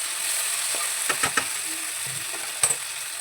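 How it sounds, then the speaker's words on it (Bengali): A spice paste of garlic, ginger, dried chili and tomato sizzles steadily in a pan for a fish roe gravy, with a few sharp scrapes and clinks as it is stirred. "মশলাটা দিয়ে ভালো করে কষিয়ে নিচ্ছি।"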